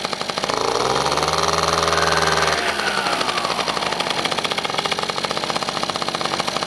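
An Italjet scooter engine revs as throttle is applied, a loud close buzz rising in pitch and then dropping back to a rapid, rattly idle pulse, with no voices over it.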